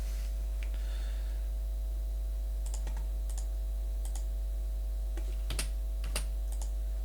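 Typing on a computer keyboard: scattered bursts of keystrokes, some in quick clusters and some single, at moderate distance over a steady electrical hum, with no talk.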